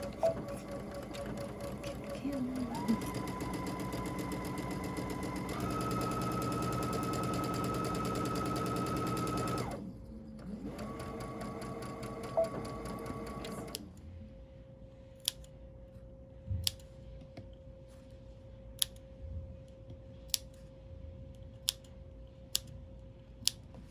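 A sewing machine runs in steady bursts while stitching a quarter-inch seam to join two fabric pieces of a face mask, its whir shifting pitch between runs, then stopping and leaving sharp isolated clicks and taps.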